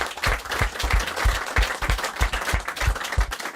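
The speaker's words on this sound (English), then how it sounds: "I think she deserves a round of applause" A small crowd claps warmly for Natasha Thomas, record appearance holder for Ipswich Town women, with fairly dense, close applause that holds steady throughout.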